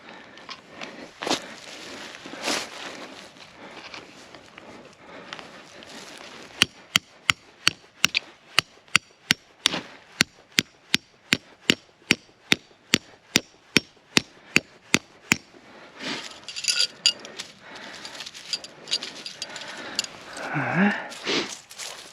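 Steady hammering of tent stakes into rocky ground while pitching an SUV tent beside a 2021 Nissan Rogue outdoors, a run of sharp evenly spaced strikes nearby, with quieter rustling and handling noise before and after.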